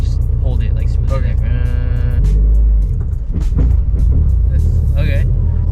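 A manual-transmission car lurching and bucking from too little throttle, with its engine droning loud and close, uneven surges in the rumble, and people talking inside the cabin throughout.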